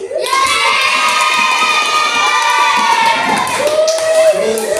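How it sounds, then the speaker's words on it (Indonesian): Children in a classroom shout and cheer with scattered clapping for a student group, a loud, continuous burst of excited voices. "Ya, kelompok 1 tepuk tangan."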